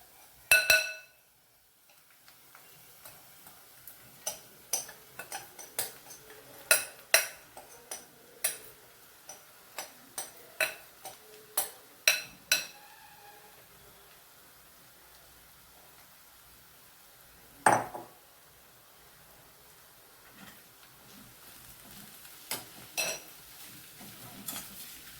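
A utensil stirring keema kaju fry in a pan, a string of sharp metallic clinks and scrapes at an uneven pace, then sparse taps after a pause, close and fairly quiet with no talk.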